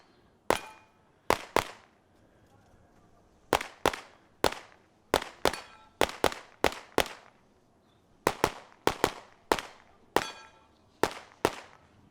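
Gunshots at an open-division practical shooting competition, sharp loud reports in quick irregular strings and pairs, each with a short ringing decay, no talking.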